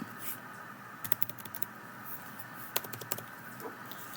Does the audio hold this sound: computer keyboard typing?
yes